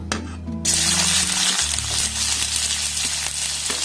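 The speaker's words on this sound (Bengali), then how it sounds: "তেলটাকে প্রথমে খুব ভালোভাবে গরম করে নেব এবার মধ্যে দিয়ে দেবো দেখুন একটা পেঁয়াজ কুচুনো" Chopped onion hits hot white oil in a kadai, setting off a sudden loud burst of sizzling that settles into a dense, continuous crackle close by.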